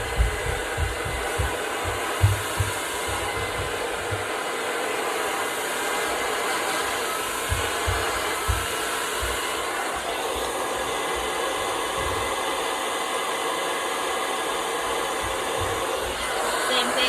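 A hair dryer blows in a steady, continuous roar close by while drying hair along a brush, with occasional low thumps and rumbles underneath.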